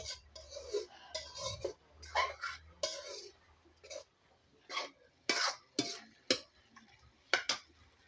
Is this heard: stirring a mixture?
yes